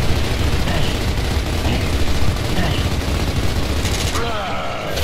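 Heavy gunfire in Gears of War Ultimate, loud continuous bursts and booms close up, with a player's voice talking over the shooting.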